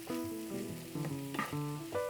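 Onions and garlic frying in a pan for seafood gumbo, a steady close sizzle with a few brief stirring bursts and tonal sounds beneath.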